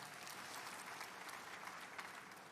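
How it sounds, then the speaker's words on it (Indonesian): A church congregation at Bethany Nginden applauding, a soft, even wash of many hands clapping from across the hall, ending with a sharp close bump. "Lu tepuk tangan sih untuk Tuhan."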